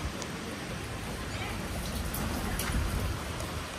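Stormy rain falls at a lakeside camp with kayaks and tents, a continuous hiss of drops with gusts of wind swelling toward the end.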